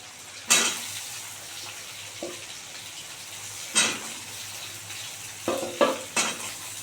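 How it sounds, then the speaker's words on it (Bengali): Two medium potatoes and three small onions fry in a pan for a vetki fish-bone chorchori, a soft steady sizzle broken by several sharp scraping strokes of a spatula against the pan. "এবারে আলুটা দিয়ে দেবো মিডিয়াম সাইজের দুটো আলু দিয়েছি"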